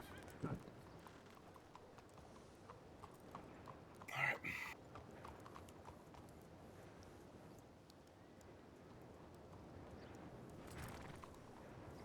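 Faint, steady clip-clop of horse hooves at a walking pace in Red Dead Redemption 2 roleplay, with a brief louder snort or whinny partway through, quiet and somewhat distant.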